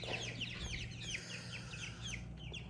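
Several chickens cluck and chirp steadily together over a low background hum, their calls overlapping in a busy, continuous chatter.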